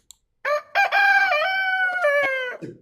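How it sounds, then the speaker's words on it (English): A cockerel sound effect plays as a single loud, close cock-a-doodle-doo, a clear rising and sustained crow lasting a couple of seconds and ending in a short trailing note. "In fact, we're going to send you a cockerel."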